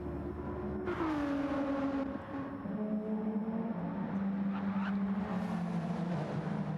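A race car engine drones through a racing video game pit entry, a steady high tone sliding down in pitch as it slows, continuous and fairly loud with another engine behind.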